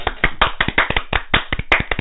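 Several pairs of hands clap in a quick, uneven flurry, close and crisp, sounding dry and bandlimited as if dropped into a podcast recording, with no voices over it.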